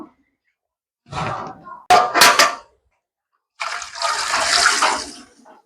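Water being drawn and poured in three separate bursts of splashing, each lasting about a second or two, with silent gaps between them, close by and fairly loud.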